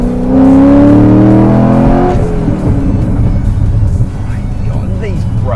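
A Chevrolet Corvette Z06 Carbon Edition launches from standstill, its engine roaring loud and close as rising gear pulls climb, then drop at a shift and rebuild into a quieter, steadier drone.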